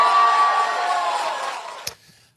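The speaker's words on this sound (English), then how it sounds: "you hear the crowd going bananas" Loud crowd at a political rally cheering and whooping in a sustained roar that gradually fades, ending with a sharp knock and near silence.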